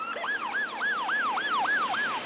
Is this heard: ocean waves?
no